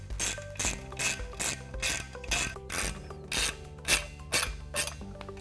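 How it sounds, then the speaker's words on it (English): A ratchet tightens straps that secure an overhead fan drive to a down tube, a steady series of about a dozen rhythmic clicking strokes, close and clear with no talk. "I'll finish tightening the straps that secure the drive to the down tube."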